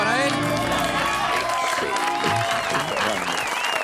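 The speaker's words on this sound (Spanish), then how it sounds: "Un aplauso para él." Studio audience applause for a guest on an Argentine television talk show, steady crowd clapping with cheers and voices mixed in, continuous throughout.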